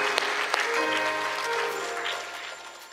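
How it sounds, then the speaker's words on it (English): Church congregation at True Divine Baptist Church in Montgomery, Alabama, giving scattered hand claps of praise over organ or sustained music tones, the clapping fading as the chords ring on. "that should be a hand clap of praise right there"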